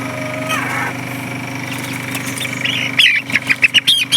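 Poultry calls from a backyard coop housing a rooster and young birds, with a steady low hum underneath and a run of sharper, louder squawks and clucks near the end.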